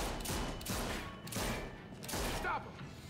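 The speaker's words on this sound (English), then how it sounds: "That was just like instant firing." Rapid gunfire in The Walking Dead game sounds as several short, clustered bursts of shots, moderately loud, with soft voices faintly underneath.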